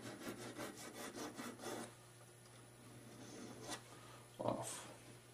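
A flat file rasping burrs off a metal ring at a jewelry bench, a quick run of short rhythmic strokes, then a pause and a couple more scrapes, faint and close.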